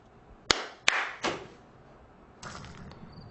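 Three sharp, close hand claps ring out in a quick, uneven sequence meant to switch off room lights, each with a short echoing tail, followed by quieter rustling and a faint tone.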